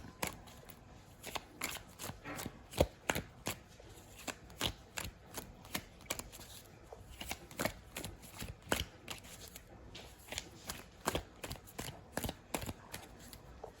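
Tarot cards shuffled steadily for a reading, a long series of sharp riffling snaps and taps at an even rhythm, near and soft, with no voices.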